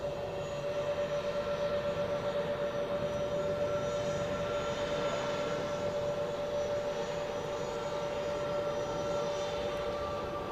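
A Swiss Airbus A320neo jet airliner roars steadily at Zurich Airport, a loud, continuous engine drone with a sustained whine, heard alone with no talk.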